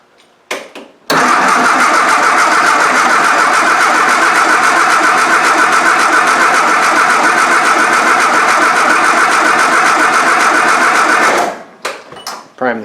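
A Triumph Spitfire engine catches after a brief crank and runs loud and steady for about ten seconds, then cuts off, leaving a few faint clicks and knocks.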